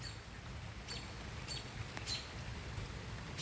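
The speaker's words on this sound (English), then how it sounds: "rain is getting a lot faster as we see these clouds come in" Steady rain falls through a thunderstorm as dark clouds roll in, a continuous close hiss of drops on surfaces with faint scattered ticks and occasional chirps, no talking.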